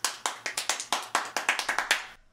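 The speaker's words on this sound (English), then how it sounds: "Now we're going to go for 14 claps per second." Very fast hand clapping, about a dozen sharp, evenly spaced claps in quick succession, close and loud, stopping abruptly.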